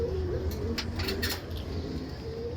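Pet cockatiels kept with their young, among other birds at a Friday bird market, give soft repeated calls and chirps in short bursts over a steady low background hum.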